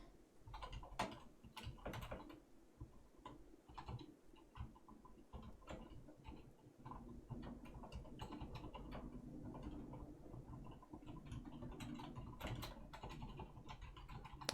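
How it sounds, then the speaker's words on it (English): Typing on a computer keyboard at close range: quiet, irregular clicks and taps that run continuously in quick bursts with brief pauses, and no voices. "So I'm typing this out."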